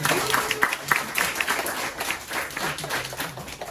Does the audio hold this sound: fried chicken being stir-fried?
no